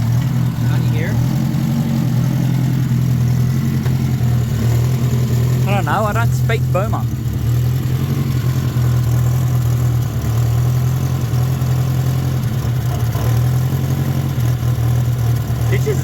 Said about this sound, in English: They might be similar at idle, but yours gets way louder when you rev it.